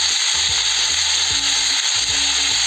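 Vegetables stirred and fried in a pan for an easy fried rice, a steady loud sizzle with scraping stir strokes repeating every second or so, no voices.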